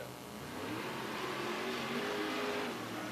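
A 33 wingless sprint car running laps on a dirt oval drones steadily at a distance, its engine holding a sustained moderate roar that rises slightly midway, with no voices over it.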